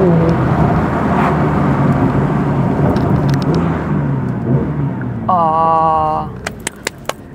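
Porsche GT3 Touring with its 4.0-litre 510 hp flat-six engine, heard as a loud, steady close rumble and whir that eases off near the end, followed by a few sharp clicks.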